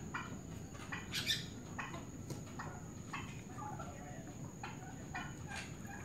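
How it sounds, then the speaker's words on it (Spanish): Tiny chicks on a farm, fed sorghum grain, peep in short, high, scattered bursts, faint and close, over a low rustling background with no talk. "Esos son los pollitos más pequeñitos que están."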